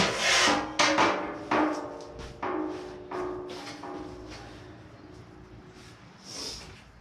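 A metal ramp is lifted off the back of a small vehicle, giving a run of sharp clanks and scraping rubs, a few short ringing tones among them, loud at first and then dying away, with no talking.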